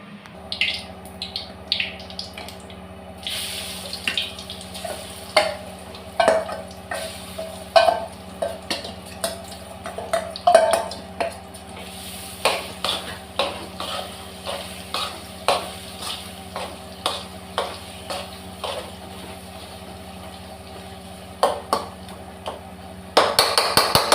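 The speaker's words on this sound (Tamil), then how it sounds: "இப்போ இதை போட்டு அப்படியே எண்ணெய் சூடானோன்னு வறுத்து எடுக்கணும்." Bitter gourd frying in hot oil in a pan, a low steady sizzle punctuated by a long series of sharp clicks and taps from a utensil at an irregular, fairly quick pace, close by with no talking.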